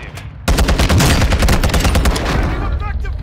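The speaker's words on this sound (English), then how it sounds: "It's another team shooting from out far." Distant gunfire from another team in Warzone 2 crackles as a dense, sustained burst of rapid shots that starts abruptly and runs for about three seconds, loud and continuous with a slight fade near the end.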